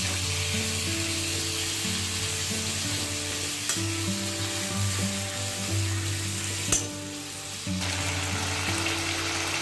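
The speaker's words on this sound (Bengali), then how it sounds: "ওর মধ্যে মাছের মাথাগুলো দিয়ে মশলাটাকে ভাজবো" Fish heads frying in spice paste with chili powder and chopped tomato, a loud steady sizzle close by with stirring scrapes, over a constant low hum.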